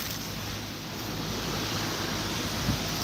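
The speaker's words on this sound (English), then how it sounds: "Boy, it is windy. It is rainy." Steady broadband roar of wind and rain outdoors, constant and hissy, buffeting the microphone with no voices.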